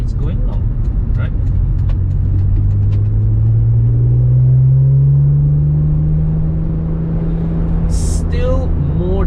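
A BMW M3 E46 Convertible engine holds a steady low rumble at 1,500 RPM in third gear, droning loudly while cruising in traffic, with someone talking over it.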